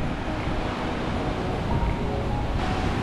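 Big ocean waves break at Papaoneone on the coast of Oahu, Hawaii, a continuous rushing roar of surf mixed with wind buffeting the microphone, loud and close, with no voices.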